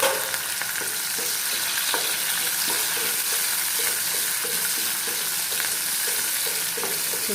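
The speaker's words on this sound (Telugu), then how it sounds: "ఆనియన్ కూడా బాగా ఫ్రై అయిపోతుంది" Onions and green chillies fry in hot oil in a pan, giving a steady, close sizzle throughout, with repeated light stirring knocks and scrapes of a spoon against the pan.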